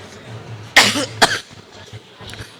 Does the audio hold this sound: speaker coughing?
yes